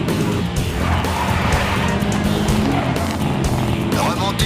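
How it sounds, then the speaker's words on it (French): Car cornering on a racing circuit, with loud engine roar and squealing tyres that hold steady throughout, under a voice giving instructions. "Freinez, rétrogradez et accélérez doucement à l'entrée du virage"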